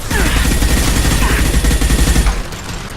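Dense, loud gunfire during combat in Mass Effect 2, with rapid overlapping shots and impacts forming a continuous close barrage before it tails off at the end.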